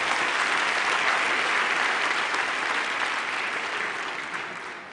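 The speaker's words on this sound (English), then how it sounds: "A warm applause all around, please." Graduation ceremony audience applauding at the close of the humanities faculty awards, sustained thick clapping from a large hall crowd, loud and even before slowly easing off.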